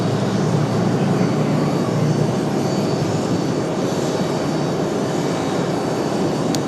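An American Airlines airliner bound for Dallas Fort Worth takes off from runway 5 left at Raleigh Durham, its engines giving a loud, continuous broadband roar with no pauses.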